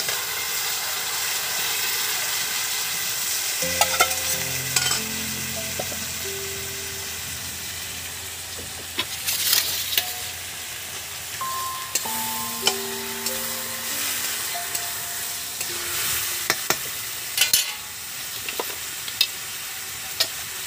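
Boiled potatoes fry in a pan with a steady sizzle while being stirred, with occasional scraping and clinks over about twenty seconds, close and continuous, and faint tonal sounds in the background.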